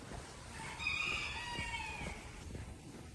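A rooster crows once at a moderate distance over a soft outdoor background at a Kemer Beldibi holiday village in Turkey, with faint clucking and rustle around it.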